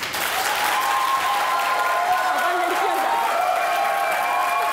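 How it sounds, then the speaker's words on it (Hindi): A studio audience claps loudly and steadily throughout, voting for Affan Waheed in a round of a comedy talk show, with a faint murmur of crowd noise underneath. "जिसका ख्याल है ये राउंड अफान वहीद जीते वो तालियां बजाएं"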